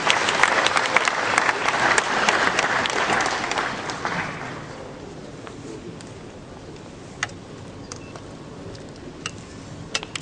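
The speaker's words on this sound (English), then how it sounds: "A big round of applause," Applause from the audience at a leadership newspaper awards ceremony and annual conference, loud dense clapping for the first four seconds that fades to sparse scattered claps and room noise.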